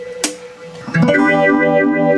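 Guitar through a Mu-Tron Bi-Phase phaser on a fast square-wave sweep, a struck chord warbling in rapid, choppy swirls that sustain loud and alone after a short pick attack.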